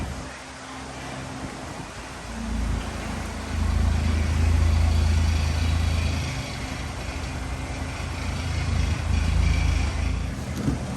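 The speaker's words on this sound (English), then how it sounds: "I don't know if you heard it when we pulled this car in, but it's got a rattle underneath" A 2020 Ford Escape with a turbo engine and a rattle underneath pulling into a shop, a low engine rumble that swells and eases as it rolls in, fairly close with no talking.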